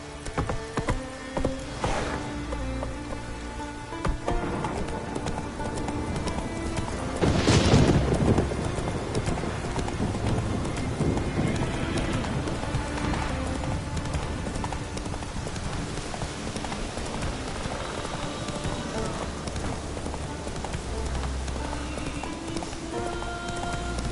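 Hooves of the horse Roach clip-clop in a steady trot through The Witcher 3 video game, continuous and fairly close, with rain and thunder rumbling in the background.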